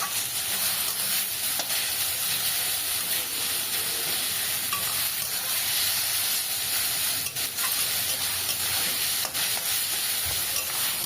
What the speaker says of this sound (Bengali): বেশ একটু নেড়ে চেড়ে নিচ্ছি।